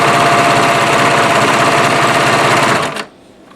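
A serger sewing machine runs steadily as it overlock-finishes the edge of a large crochet yarn blanket, a loud continuous mechanical whir that stops abruptly near the end, leaving faint room noise.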